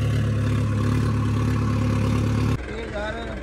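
A tractor engine runs after a wheat field has been sown, giving a loud, steady low drone for over two seconds before it drops away and a voice speaks over a quieter background.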